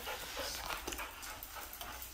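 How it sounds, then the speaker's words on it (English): A dog pants and whimpers close by, quick breathy panting with faint whines, over steady outdoor background noise. "can I walk that dog right there?"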